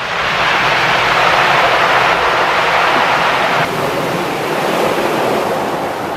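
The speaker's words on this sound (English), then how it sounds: "Just listen how intense and scary the sound of the waves are here." Intense, roaring ocean surf crashes against the French coast, a loud, continuous wash of breaking waves with wind buffeting the microphone and no voices.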